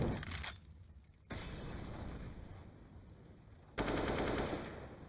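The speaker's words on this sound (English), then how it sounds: "Shots through the half wall as Nico checks behind it" Gunfire in Counter-Strike on the Inferno map during a professional match, with bursts of shots fired through a half wall: a loud opening burst, a steady rattle, then another sharp burst, with no talk.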